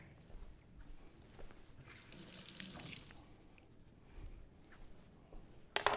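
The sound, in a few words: washing a knife blade under a running tap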